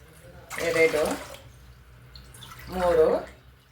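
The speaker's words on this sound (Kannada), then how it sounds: "3 ಗ್ಲಾಸು ನೀರು ಇಡ್ತಾ ಇದ್ದೀನಿ ಮುದ್ದೆ ಮಾಡೋದಕ್ಕೆ" Two short bursts of water pouring into a pan, each lasting about a second, with a quiet pause between them, as three glasses of water are added for making ragi mudde.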